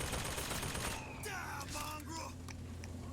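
Faint bursts of gunfire from BioShock Infinite gameplay crackle in a rapid volley after a second of low rumbling ambience, then trail off into scattered shots, all quiet and somewhat distant.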